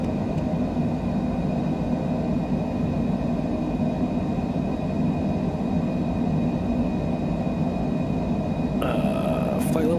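Steady, loud broadband roar of a Cessna Citation Longitude business jet climbing out after takeoff, heard from inside the cockpit, with a brief higher whine near the end.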